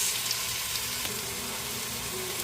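Ginger, onion and tomato saute in hot oil in a pan as the base for mung bean stew with pork hock, giving a loud, even, close sizzle with no pauses.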